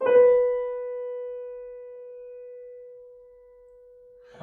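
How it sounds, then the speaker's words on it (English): A single piano grace note crushes quickly into a main note that then rings out steadily and slowly decays over several seconds, alone and clear, with a faint knock at the end. "If I were going to play a acciaccatura, it would sound like this."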